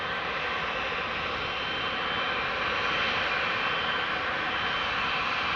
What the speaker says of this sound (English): Here we have Qatar flight 8206 to Doha.